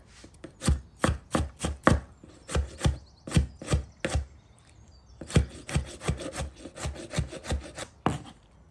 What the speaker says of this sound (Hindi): एक टमाटर चॉप कर लेते हैं इस तरह से।